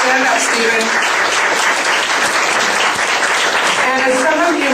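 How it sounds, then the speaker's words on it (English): Applause from the audience at a League of Women Voters meeting, a continuous, loud wash of clapping from many people with some voices blended in. "we should applaud people who are willing to run for public office"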